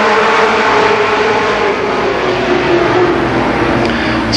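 Mini stock race cars circling Columbus Motor Speedway on the opening lap, making a loud, sustained engine drone with a steady, slowly wavering pitch as the field runs by, and no voices.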